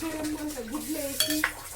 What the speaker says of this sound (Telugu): ఇంకొంచెం కలుపుకుందాం గైస్. ఇంకొంచెం సేపు దీన్ని కలిపి మూత పెట్టేసి మగ్గనియాలి దీన్ని.